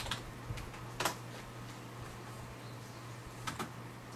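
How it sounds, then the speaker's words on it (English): A command is typed on a computer keyboard while resetting a Windows 7 password: a handful of faint, scattered key clicks, quiet and slightly distant, over a steady low electrical hum. "You're going to type in net user, then the username, then the new password that you want."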